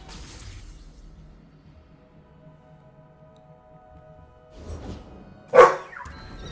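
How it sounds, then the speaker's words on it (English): A single sharp dog bark rings out near the end, following a quiet stretch with a low distant rumble and faint shuffling. "Don't bark."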